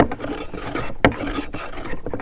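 A hand plane is pushed across a wooden charcuterie board in a few rasping strokes, close and clear, with a sharp scrape near the middle.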